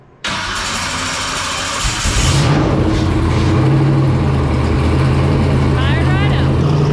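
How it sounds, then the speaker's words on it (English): A Jeep engine cranks and fires about two seconds in, then settles into a loud, steady, rumbling idle close by. "all that's left to do is to fire it up and take it out for a little test drive"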